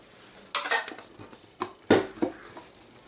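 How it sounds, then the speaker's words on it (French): An empty Pac-Man metal tin box is handled close by, giving a few light metallic clinks and taps in quick irregular bursts over quiet room background. "Pac-Man avec sa boîte métallique qui est là, qui est vide à l'intérieur"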